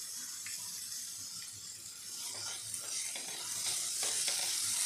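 Cabbage, capsicum and peas sautéing in oil in a pan, a steady close sizzle with stirring scrapes and clatters that grow busier and louder toward the end, no talking.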